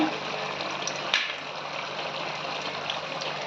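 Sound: finely chopped garlic frying in hot oil

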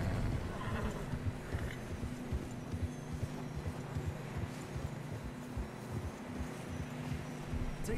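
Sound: horse riding in a video game

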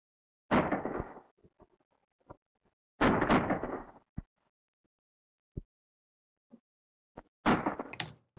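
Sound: gunshot sound effects from a film soundtrack

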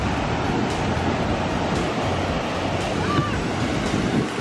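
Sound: ocean waves at a California beach

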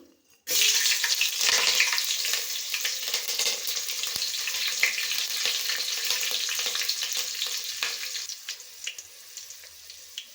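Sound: green chillies and cumin frying in oil

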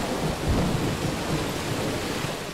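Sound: rain and thunder in a video game

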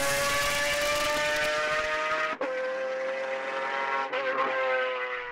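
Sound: Pagani Zonda R track car engine

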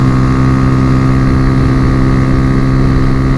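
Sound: Honda Fan 125 motorcycle engine running at speed

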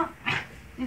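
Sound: dog whimpering

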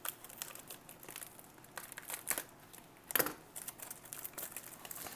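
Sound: opening and crinkling a Vietnam-era LRRP ration package

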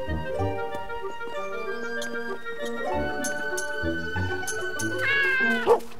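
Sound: cat meowing in video game Lost in Play

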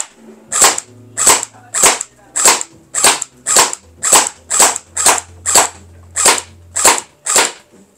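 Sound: Tiangong ARP9 v2 gel blaster firing semi-auto at cardboard

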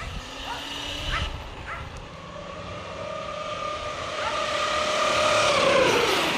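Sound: Arrma Kraton 8s RC car speed run pass

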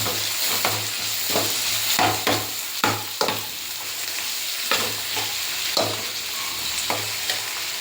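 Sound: frying and stirring masala with coriander leaves

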